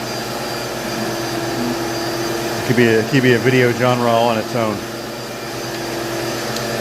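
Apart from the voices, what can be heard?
vacuum cleaner sucking up dust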